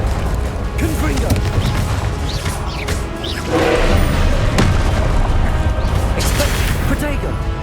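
Loud fiery blasts of the Confringo spell in the video game Hogwarts Legacy burst amid combat booms, crashes and whooshes, close and dense, with voices shouting spell names throughout.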